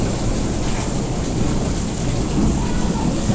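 Heavy rain pours outside in a Punjabi village, a dense steady hiss and patter with a low rumble underneath, continuous and close with no voices.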